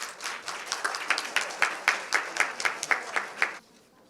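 Audience applause for a speaker at a Thai breastfeeding foundation event, a dense patter of many hands with a few sharper individual claps standing out, steady for about three and a half seconds and then cutting off abruptly.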